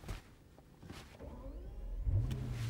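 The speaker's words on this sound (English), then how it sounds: "Hear that familiar burble? I just love that sound." A Bentley Continental Flying Spur Speed engine idles with a low, throaty exhaust burble that swells slightly near the end, heard close by without talk.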